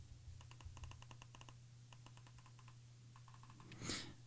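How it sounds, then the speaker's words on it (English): A Logitech keyboard clicks under steady, quiet typing in rapid irregular runs with brief pauses, ending in a sharper louder click or knock. "the Logitech keyboard makes noise when I turn the volume up and down"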